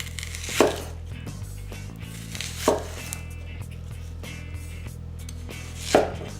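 A knife chops an onion on a board in three separate, fairly loud strikes about two and a half seconds apart, with a steady low hum between them.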